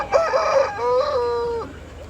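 A rooster at a country chicken market in Konganapuram, Salem, crows twice in quick succession, loud and close, its long drawn-out calls standing alone with no talk.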